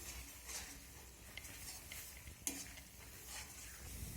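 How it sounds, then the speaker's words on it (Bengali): Banana stem curry with spices is stirred in a frying pan, a faint sizzle with intermittent scraping strokes and a single sharp clink of a utensil. "মশলাটা দেওয়ার পর আমি আবারও ভালো করে নেড়ে চেড়ে নেব।"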